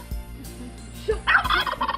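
A turkey gobbles close by, with a few short throaty calls and then a loud, rapid, warbling gobble burst near the end, alone without talk.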